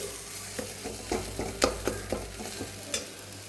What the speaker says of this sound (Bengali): এটাকে এখন আমি ভালো করে ভেজে নেব